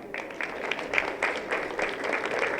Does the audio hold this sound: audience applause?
yes